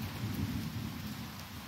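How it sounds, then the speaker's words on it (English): Heavy rain with a low, rumbling roll of thunder underneath, a dense continuous wash of sound lasting under two seconds. "The storms come."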